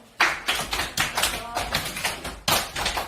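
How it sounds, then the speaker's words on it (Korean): A classroom of students claps to welcome a new classmate, a loose, uneven burst of hand claps and taps that swells in a few waves, with voices talking over it. "자, 모두 박수."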